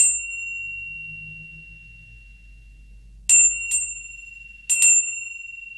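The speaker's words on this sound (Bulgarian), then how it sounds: "важно е камбанката да е хубава от хубав месинг, да издава хубав звук." A brass bell brought from Tibet rings with bright, sustained metallic tones: one long fading ring, then several sharp strikes in quick succession near the end, heard close and clear over a low background hum.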